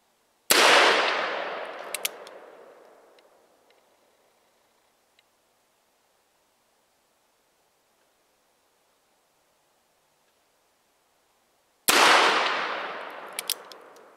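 Two sharp black-powder shots from a Pietta Buffalo New Model Army percussion revolver, fired at a target 15 yards away, each a loud crack with a long decaying tail, about eleven seconds apart with near-silence between.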